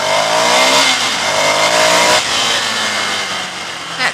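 A Ducati Scrambler Icon motorcycle engine revs hard inside a road tunnel. The loud, continuous roar echoes off the walls and rises and falls in pitch as the rider accelerates, with no talk over it.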